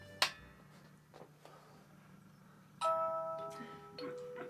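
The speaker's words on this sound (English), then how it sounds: "You press the front doorbell." Homemade music box built from old cigar boxes, its front doorbell pressed: a sharp click, then a soft two-tone electronic chime ringing out in a quiet room, faint and close.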